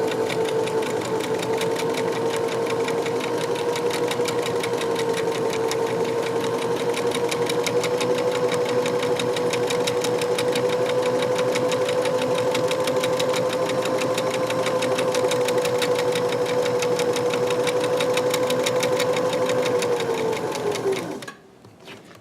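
A sewing machine stitches pillow fabric in one long, steady run, its close, rapid, even hum and needle clatter going for about twenty seconds before it stops abruptly.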